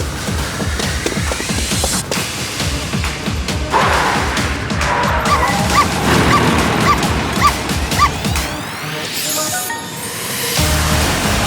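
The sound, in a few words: dog barking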